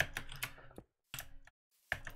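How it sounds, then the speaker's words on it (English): Loud computer keyboard typing in fast bursts of clicks, broken by two short silent pauses, close and alone with no talk. "I know my keyboard is loud"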